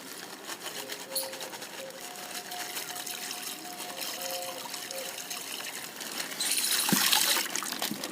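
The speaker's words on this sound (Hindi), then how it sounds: "यहाँ पे मैं इस पानी के अंदर पूरा कास्टिक सोडा मिला दिया और उसको मिलाएंगे" Caustic soda being stirred into water, a continuous watery swishing and trickling with faint tonal hums, building to a louder gushing burst near the end, no talk.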